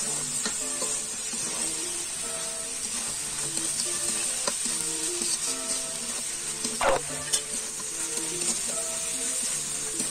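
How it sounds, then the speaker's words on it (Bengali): Country chicken pieces fry with spices in oil in a pan, giving a loud, steady sizzle broken by stirring scrapes, with faint tonal music underneath. "এবার মাংসটাকে দিয়ে মাংসটাকে ভালো করে মশলার সাথে কষিয়ে নিতে হবে।"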